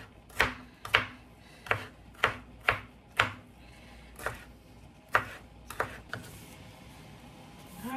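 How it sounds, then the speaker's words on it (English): A knife chops garlic on a cutting board, about a dozen crisp knocks in an uneven rhythm with short pauses, close and clear with no talk. "Some of this garlic chopped up."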